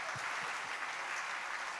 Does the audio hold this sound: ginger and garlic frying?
no